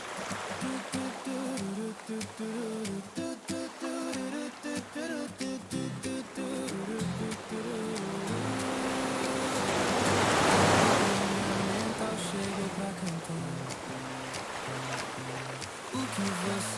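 Calm ocean waves surge and wash in a steady broadband roar that swells louder midway, blended with soft sustained musical tones of a gentle lullaby.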